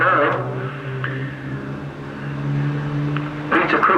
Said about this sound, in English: it sounds like there's some close racing going on